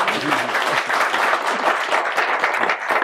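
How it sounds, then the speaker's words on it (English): Steady, dense applause from a crowd, many hands clapping continuously at full volume throughout. "last round of applause"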